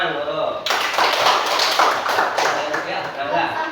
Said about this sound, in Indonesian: Tepuk tangan, Guru.